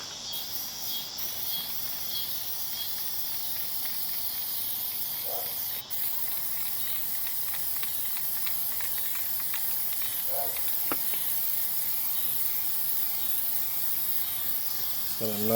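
Plasti Dip sprayed from an aerosol can onto a car grill, a steady close hiss running throughout with a few faint clicks, no talking.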